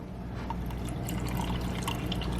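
Shredded rotisserie chicken and its juices poured into an Instant Pot make a soft, steady wet spill with a few light drips, quiet and close with no talk.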